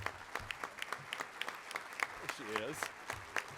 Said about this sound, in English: big round of applause for our ambassador this month